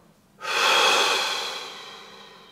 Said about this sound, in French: Prenez quelques grandes respirations. Gonflez bien votre ventre.